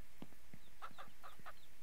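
Chickens on a ranch in the video game Ranch Simulator give several short, soft clucks in quick succession over a steady ambient background.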